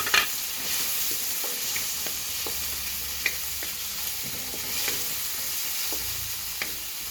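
Tomatoes stirred and sautéed in a pan, a steady sizzle with scattered scraping taps of the utensil against the pan, close and fairly loud with no talk.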